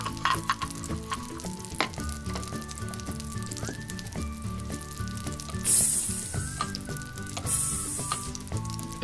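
Steady crackling sizzle of a burger patty frying in a pan, close up, with soft squishy stirring sounds and faint background music.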